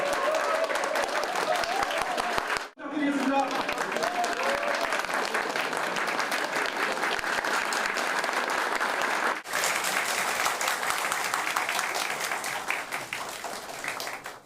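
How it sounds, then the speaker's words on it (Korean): Large audience applauding steadily to welcome dignitaries entering a New Year kickoff political event in Suwon, Gyeonggi Province, a dense continuous roar of clapping with a brief dip and a short spoken phrase near the start. "큰 박수로 맞이해 주시기 바랍니다."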